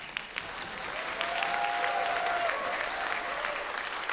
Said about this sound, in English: So let's clap for them.